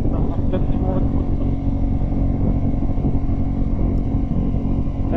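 A 2025 Ducati Panigale V4 on the road to Mt. Charleston gives off a steady, loud engine drone mixed with wind rush that holds unbroken throughout.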